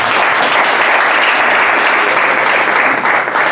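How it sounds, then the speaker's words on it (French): A congregation at a church certification ceremony claps loudly and continuously for the music group, a dense, even wash of applause that holds steady throughout. "Je voudrais qu'on acclame le Seigneur pour le groupe musical"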